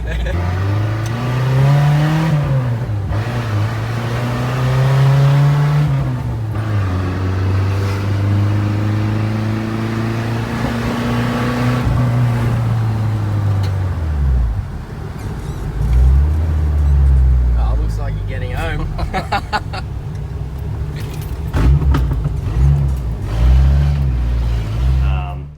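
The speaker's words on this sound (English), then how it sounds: "it has no muffler, so it's loud as all fuck" Loud, close engine of a 1980s Holden Jackaroo with no muffler, revving hard in rising and falling surges that later settle into a rough, throbbing idle, with voices talking over it.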